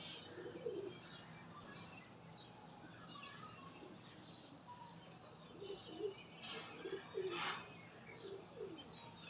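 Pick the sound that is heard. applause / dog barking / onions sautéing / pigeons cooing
pigeons cooing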